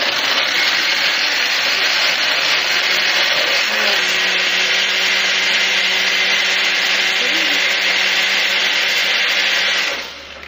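A blender whirs loudly and steadily for about ten seconds, pureeing onions, spices and water for beef haleem, then stops abruptly.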